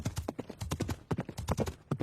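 Horse hooves clip-clop in quick, steady rhythm as a fast horse is ridden alongside a carabao on a joy ride, close and clear, with brief voices faintly in the background.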